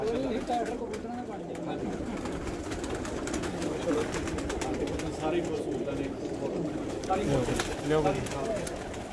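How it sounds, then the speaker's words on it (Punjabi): Continuous low cooing from several pigeons, a layered murmur of calls with faint voices underneath. "ਆ ਸਾਡੇ ਕਬੂਤਰ"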